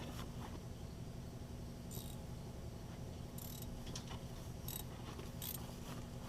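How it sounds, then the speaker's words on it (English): A 3/8 ratchet with a 1/2 inch socket works on a Case VAC tractor that has sat since 1969. Several short bursts of ratchet clicking come over a steady background hum. "Half 3/8 ratchet, 1/2 inch socket."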